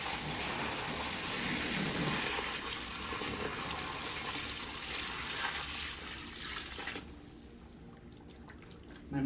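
About five gallons of water pours from a bucket into a container garden in a loud, continuous gush that splashes and soaks in, then eases to a softer trickle near the end.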